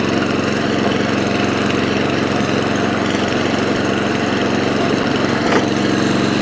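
Atco Balmoral cylinder lawn mower engine running steadily and loud up close, its drive lurching and catching as the belt fails to slip on the cylinder pulley, a constant mechanical drone with a brief jolt near the end.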